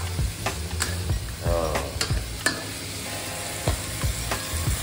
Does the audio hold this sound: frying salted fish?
yes